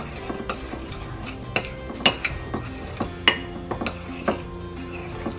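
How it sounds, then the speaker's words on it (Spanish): Ingredients being stirred into flour in a bowl for sweet flour gorditas, a steady run of small clinks and taps from a spoon against the bowl, fairly close and without speech. "Lo vamos a mezclar con la harina."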